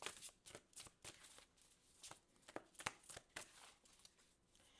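Tarot cards are shuffled by hand in a series of quick riffling bursts, close and fairly quiet, with irregular crisp flutters and no talking.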